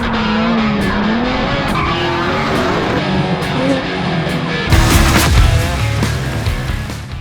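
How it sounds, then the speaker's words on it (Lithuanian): A drift car at a drift competition screeches its tires in a long, loud squeal over a revving engine, then the roar swells sharply as the car slides close by. "Liuks driftas jėga."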